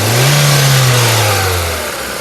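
A 2015 Hyundai Creta S engine revs up from idle, holding a rising, steady roar close by before easing back down, loud and alone.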